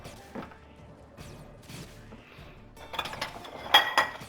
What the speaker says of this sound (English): sorry about the noise in the dishwasher